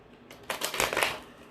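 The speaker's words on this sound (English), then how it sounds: "Let me shuffle this deck" A tarot card deck being shuffled close up, a dense riffling burst of crisp papery flutters that swells after a quiet start and fades out.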